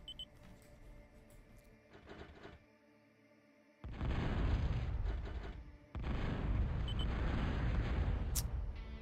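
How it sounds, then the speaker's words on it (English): Bombing runs in the real-time strategy game Total Annihilation produce dense, rumbling explosions. Quieter mechanical game sounds give way to two sustained, loud stretches of booming blasts. "very nice bombing from Emac"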